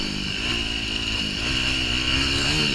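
Dirt bikes, a KTM 150 and a Yamaha YZ250F, ride single-track trails near Moab, Utah, their engines droning steadily and close with a rough buzzing tone and small shifts in pitch throughout.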